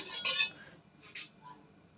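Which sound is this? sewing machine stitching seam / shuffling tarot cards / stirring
stirring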